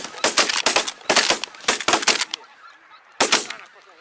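Geese honking in loud overlapping bursts during a goose hunt in Belarus, several clustered calls close by, a pause, then another burst near the end, with no talk over them.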